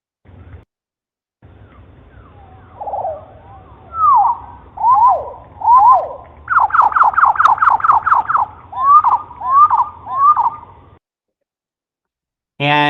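A green-tailed towhee song is played back slowed down, so its notes come out lower and drawn out. Separate swooping whistles lead into a trill that is now stretched into distinct pulses, followed by more looping phrases, clear and alone.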